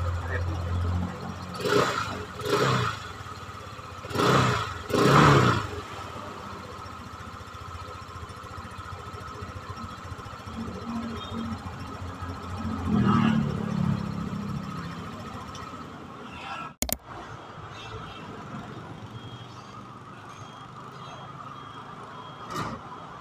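A white 2024 EuroMotor Samurai 155i motorcycle engine giving a few loud throttle blips near the start, then settling into a steadier running hum, with faint voices now and then.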